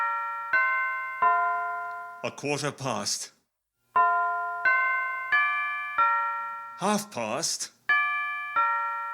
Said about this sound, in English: He spoke before the hour bell sounded